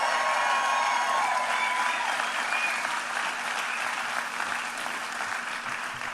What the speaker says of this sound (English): Let's give a round of applause to Pastor Billy Smith and the Christ Chapel team.